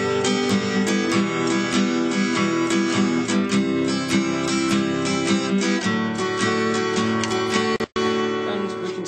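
An acoustic guitar strummed in a syncopated pattern, with a slight delay after the first beat, dense rhythmic chord strokes played close and steady for several bars with a brief break near the end.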